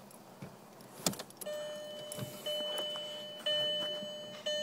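A car key slides into the ignition and turns to accessory mode, giving a few small clicks and rattles, then steady electronic chimes and tones ring out repeatedly in a quiet cabin.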